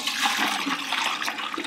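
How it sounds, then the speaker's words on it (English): Chicken stock for a campfire Brunswick stew is poured from a pot with a spout into another pot, a loud, rushing, gurgling stream of liquid that runs steadily throughout. "to dump our chicken stock right there into this other pot"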